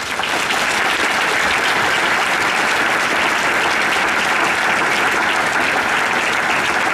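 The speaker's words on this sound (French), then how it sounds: "que je vous demande d'applaudir." A crowd applauds police and gendarmerie representatives at a town New Year's address in Olonne-sur-Mer, a dense, steady wash of clapping that stays loud and even for the full stretch with no pause.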